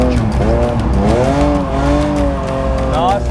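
A car launched for drifting with the clutch dumped: the engine revs hard while the tyres squeal and skid in long wavering howls, loud and close, with a voice partly audible beneath.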